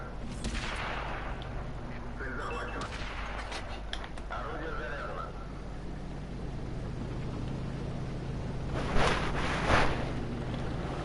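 Artillery fire in World of Tanks, with booming blasts and bursts of noise over a constant engine and wind rumble, the loudest impacts clustered near the end, amid a battle soundscape.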